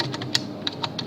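Quick typing on a computer keyboard as a file name is entered while saving a file, a run of about a dozen crisp close keystrokes at an uneven pace, no speech.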